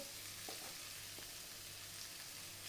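Potatoes frying in a pan over a low flame for a chicken and potato samosa filling, a soft, steady sizzle with a few faint stirring scrapes, heard alone.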